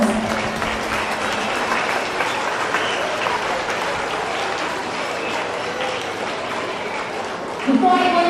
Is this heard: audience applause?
yes